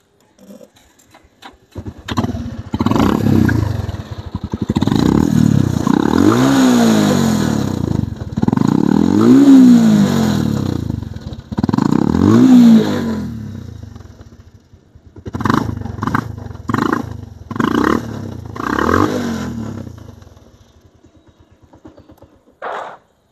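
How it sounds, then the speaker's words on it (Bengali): An old-model Bajaj Pulsar motorcycle engine revs in repeated bursts, each climbing and falling back to a throbbing idle, loud and close, followed by a run of short sharp blips. "আর যদি সাউন্ড শোনায় আপনাদেরকে বাইকটার"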